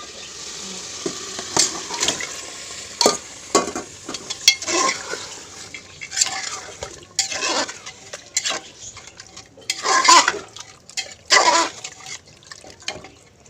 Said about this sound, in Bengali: গোস মশলা কষাচ্ছে সব মশলা দিয়ে এবার কষিয়ে গোসটা দিয়ে দেবো